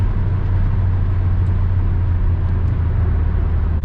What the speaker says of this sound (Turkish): Dediğim gibi biraz motor gürültüsü oluyor